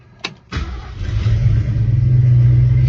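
A 1963 Ford Falcon Sprint engine cranks with a brief starter whir, catches and settles into a loud, steady idle close by, with no talking.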